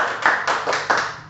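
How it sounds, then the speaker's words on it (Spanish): Congregation applause at a church service, a short burst of close, dense clapping with a few sharper surges, loud and sustained. "bríndele un fuerte aplauso al Señor por eso"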